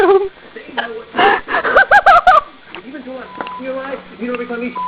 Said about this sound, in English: And I have the hiccup.